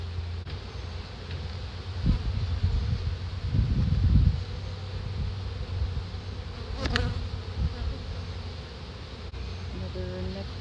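Honey bees buzzing during an inspection of a building colony, a steady close hum running throughout with brief louder swells as frames are handled.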